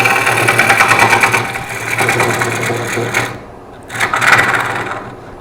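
A wood lathe spins a cherry bowl blank as a gouge takes roughing cuts, giving a loud, close, pulsing hum with a gritty scraping texture that fades and returns as the cuts stop and restart.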